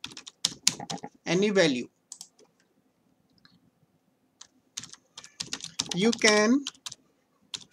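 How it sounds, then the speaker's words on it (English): Keyboard typing on a computer while entering an input message in a Microsoft Excel data validation box, a few quick clicks scattered between bursts of nearby speech. "So we can type here"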